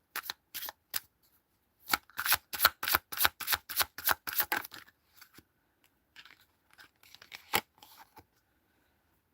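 Tarot cards are shuffled in quick, crisp riffling bursts, with a tight run of rapid snaps in the middle and a few scattered flicks before and after, close and distinct against silence.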